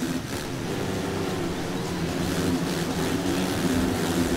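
Motocross motorcycle engine in the rain in the racing game MXGP3, a steady loud droning hum with layered low tones that holds constant throughout with no pauses, heard alone.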